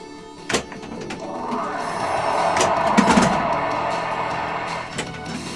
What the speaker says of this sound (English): That spinner is nice.